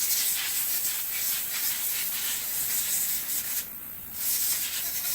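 Compressed air blasts steadily across a part to clear off polishing compound, a loud continuous hiss with a brief change in tone near the end before the full rush returns.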